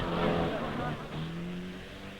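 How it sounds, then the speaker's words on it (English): Triumph rally cars race over an icy mountain pass, engines droning and shifting pitch as they pass at a distance, faint and partly covered by someone narrating throughout. "The leading 60 cars, in the hands now of the world's top rally drivers, stormed over the pass at 10/10 seconds."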